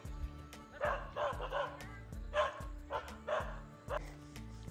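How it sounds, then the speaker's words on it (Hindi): Several dogs bark repeatedly in a rural Uttarakhand hill village near a water tank, loud and close with yips and whimpers in an uneven rhythm over a steady low hum, while people talk nearby. "वो देखना कितने तो खतरनाक कुत्ते हैं।"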